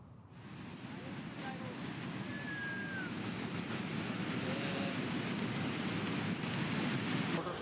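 Fast-flowing flood water in a river at Janki Chatti, Uttarakhand, where mules and a motorcycle were swept away: a steady, loud broadband roar of rushing water that continues without a break from start to finish.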